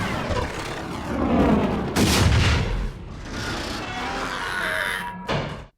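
Dense film battle din from a Star Wars: Attack of the Clones clash between clone troops, droids and vehicles: loud, continuous blaster fire and gunfire volleys with booming blasts, steady for several seconds before cutting off abruptly.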